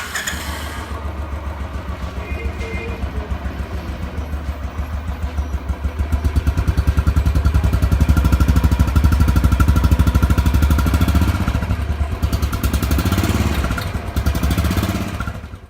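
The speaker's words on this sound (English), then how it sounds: "it's time to check the firing exhaust note of the Bullet" A Royal Enfield Bullet Trials 350 motorcycle exhaust, a close, loud single-cylinder thump that idles with a rapid steady pulse, then rises as the throttle is blipped before settling back down.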